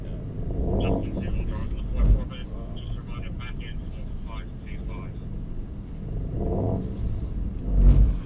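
Mercedes-AMG GT63 Pro engine on a race track, a steady low rumble that swells as the revs rise around two seconds in and again near the end, with someone talking over it throughout.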